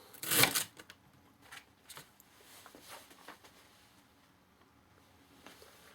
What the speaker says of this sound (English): It makes it easier to cut them, and then we'll just keep on cutting.